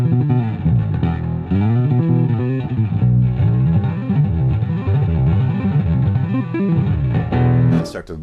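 Electric bass played through an EBS Billy Sheehan signature overdrive pedal with compression added, a thick sustained distorted bass line with even, squashed dynamics, loud and close, alone.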